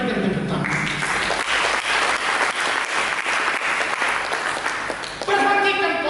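A church congregation applauds during a sermon, a sustained wash of many hands clapping in rhythmic pulses, with a voice and musical tones rising as the clapping ends.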